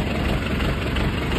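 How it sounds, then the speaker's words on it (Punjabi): A tractor engine idles on a dairy farm, a steady low rumble with faint vibration running unbroken and fairly loud throughout, with no voices over it. "ਤਾਂ ਟਰੈਕਟਰ ਕਰ ਜੀਏ ਆਪਣੇ ਬੰਦ, ਟਰੈਕਟਰ ਕਰਤਾ ਬੰਦ"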